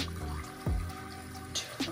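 Water poured into magic shaving powder, a brief splashy pour with a couple of drip-like plinks, close and moderately quiet, no talking.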